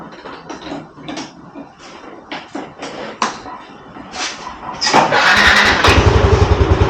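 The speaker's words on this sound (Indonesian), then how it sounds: "Oke, kita sekarang tes nyalain motornya." A motorcycle engine, freshly given new oil, cranks and catches, settling into a loud, steady idle with a rapid low throb after several seconds of clicking and shuffling.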